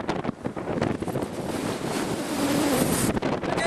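Strong wind batters the microphone on a beach, a constant roaring rumble with gusty swells and the wash of surf beneath it, no talking.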